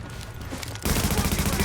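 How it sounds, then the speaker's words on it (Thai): Sustained heavy gunfire in the shooter game The Division, machine gun and sniper fire together, erupting loud after a quieter stretch and continuing as dense, rapid bursts without talk. "โอ้มีทั้งปืนกลมีทั้งสไนเปอร์"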